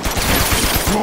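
Rapid automatic gunfire from the video game Uncharted 2: Among Thieves, a loud, dense burst of repeated shots filling the whole moment.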